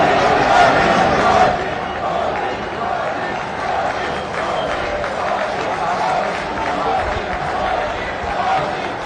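A crowd welcomes Prime Minister Narendra Modi at a public event. Sustained, dense clapping and crowd noise fill the air, loudest at first, under an announcer's amplified voice.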